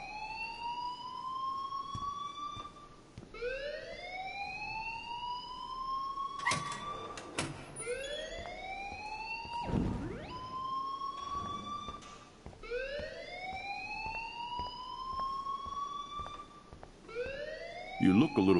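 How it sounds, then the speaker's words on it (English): A wailing rising alarm sweeps up again and again in the video game Life is Strange, loud and repetitive, with a few sharp clatters between cycles. "please turn off that alarm since that's your job"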